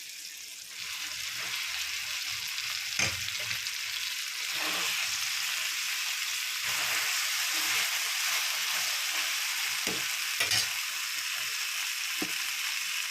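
Dried prawns and gongura (sorrel) leaves frying in a pan for a koyyakura gongura curry, a steady broadband sizzle throughout with a few sharp stirring clicks and scrapes, close and alone.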